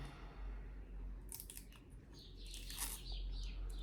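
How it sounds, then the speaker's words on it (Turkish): The label on an Insta360 X3 camera box is peeled open by hand, making short close scratchy tearing and rustling bursts over a low hum, with no speech. "Şu an etiketini açıyorum."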